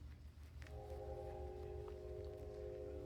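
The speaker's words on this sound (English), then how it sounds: "I have a train outside." A train passing outside a home, heard as a low steady rumble with a faint sustained horn-like tone rising in partway, distant and muffled indoors, no talking.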